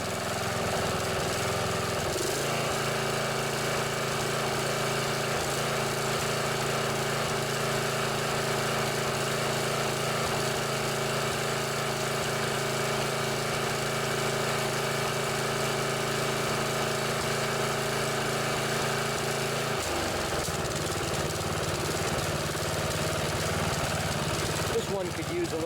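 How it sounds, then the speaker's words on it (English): A Briggs & Stratton OHV engine on a riding lawn mower idles steadily and sputters slightly, with a carburetor that needs work. The sound stays continuous and fairly close, with a shift in tone near the start and again near the end. "Sputters a little bit, could probably use a little more carburetor work,"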